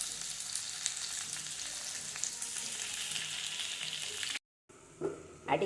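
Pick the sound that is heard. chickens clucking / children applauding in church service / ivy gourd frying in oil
ivy gourd frying in oil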